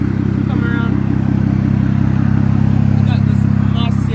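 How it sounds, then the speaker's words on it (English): A lowered BMW 335i convertible with an inline-six twin-turbo engine and full custom exhaust idles nearby, a steady loud low rumble that holds throughout, with a person talking faintly over it. "It's an inline 6-cylinder twin turbo, making a lot of power."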